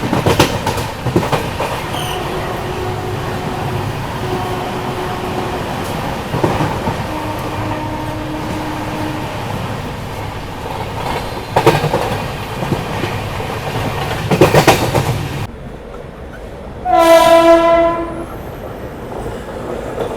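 Humsafar Express rolling into Chennai alongside a Chennai local train, with steady rumble and wheel clatter throughout, a few louder passing swells, then a loud, sustained horn blast near the end.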